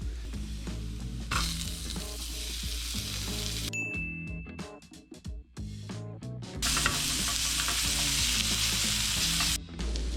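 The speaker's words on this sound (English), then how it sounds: "you can probably now start adding the ground beef" Ground beef frying in a pan for a breakfast burrito, with a steady close sizzle and stirring scrapes that briefly drop to scattered clinks in the middle before the loud hiss returns.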